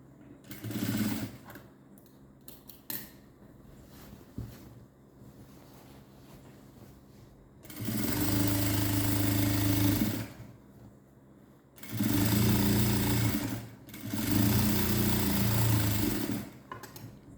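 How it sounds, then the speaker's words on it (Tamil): A sewing machine stitches a folded pant hem in three loud sustained runs of rapid motor whir, separated by quieter stretches of fabric handling and faint clicks. "ஃபோல்ட் பண்ணி இன்னொரு மடக்கு மடக்கி அடிக்கிறோம்"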